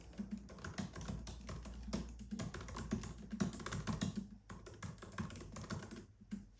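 Rapid, quiet tapping of fingers on a computer keyboard, irregular bursts of keystrokes close by with no talking.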